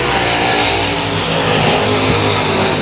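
At Cotton Bowl Speedway, race cars pull away at the green flag, a dense, loud roar of several engines accelerating together without a break.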